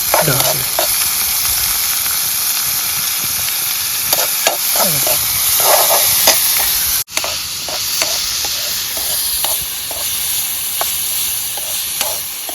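Onion and tomato fry in a pan over a campsite cooking setup, a loud continuous sizzle with scattered scraping and clinking of stirring throughout.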